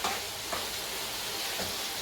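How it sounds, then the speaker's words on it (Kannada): Chicken chops sizzle steadily in hot oil in a pan, a soft continuous frying hiss with faint stirring, no voices present. "ಈ ಥರ ಎಣ್ಣೆಲೆ ಚೆನ್ನಾಗಿ ಫ್ರೈ ಆಗಬೇಕಿದು."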